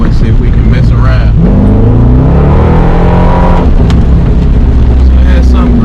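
A Corvette with new tires revs and accelerates hard in low gear, the engine note rising in loud sweeping pulls over a steady rumble, with someone talking over it.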